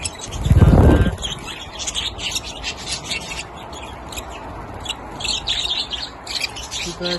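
Small aviary birds chirp and tweet in quick, scattered bursts throughout, fairly close, after a loud brief rubbing or scuffing thump near the start.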